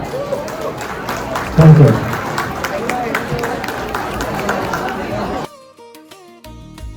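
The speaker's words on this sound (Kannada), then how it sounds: "ಮತ್ತೊಮ್ಮೆ ನಮ್ಮ 3 ಜನ ಅತಿಥಿಗಳಿಗೆ ಬರಲಿ ಜೋರಾದ ಚಪ್ಪಾಳೆ." An audience at the Orlando Kannada Sangha's Yugadi celebration applauds three guests, with a dense wash of clapping and crowd murmur for about five seconds before it cuts off. A voice speaks briefly over it.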